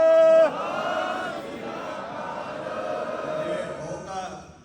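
A Sikh congregation answers the Bole So Nihal call with a jaikara, many voices shouting together in one sustained, moderately loud crowd roar lasting a few seconds after a brief clear tone.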